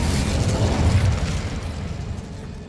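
A fire spell cast in the Hogwarts Legacy video game bursts with a loud whooshing blast, then trails off into a crackling, fading rumble, with no voices over it.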